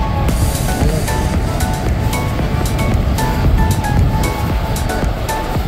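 Steady, rough roar of sea waves and wind filling the whole stretch, continuous and fairly loud with no voices.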